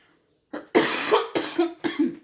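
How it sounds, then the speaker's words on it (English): A person coughs four times in quick succession, close and fairly loud, after a brief quiet start. "excuse me for coughing"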